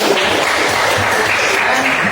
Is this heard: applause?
yes